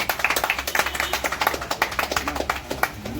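An audience at a Modicare team recognition event claps together in a steady, rhythmic beat of many hands. The clapping is moderately loud and continuous, with little talk.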